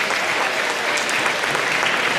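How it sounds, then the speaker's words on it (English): Dense, continuous applause from a school crowd at an awards rally, steady broadband clapping that holds at full loudness from start to finish with no gaps. "Give yourselves a round of applause."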